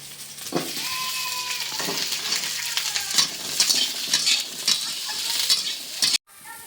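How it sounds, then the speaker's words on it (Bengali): Vegetable stalks are stirred in a frying pan, giving a steady hiss and sizzle with scraping stir sounds throughout, close and moderately loud, before a brief silence near the end. "ডাঁটাগুলো নেড়ে জল ঢেলে দেবো।"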